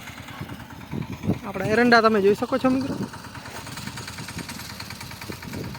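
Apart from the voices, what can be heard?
Captain mini tractor engine running in castor field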